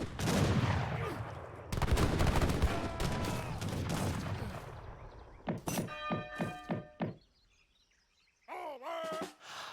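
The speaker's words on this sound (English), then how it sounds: "Huge volley from the organ guns." Organ guns in Age of Empires III fire a volley: a dense burst of overlapping cannon-like booms with clattering impacts, followed by several sharp spaced shots, a brief lull, then more battle noise.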